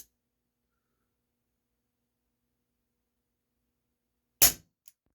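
A single sharp crack from an Umarex Beretta PX4 Storm CO2 blowback air pistol firing, with a faint metallic ping just after, set against near silence.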